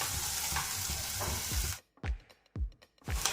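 Dried chili, bay leaf, whole cumin, fennel and a little ginger paste fry in a pan, a dense loud sizzle that drops away suddenly, followed by a few sharp scraping stirs and spatters.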